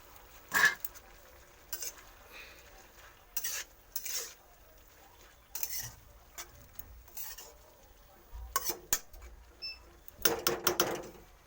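Leafy greens are added to and stirred in a pot of boiling potatoes, heard as scattered, quiet bursts of rustling and utensil clatter separated by near silence.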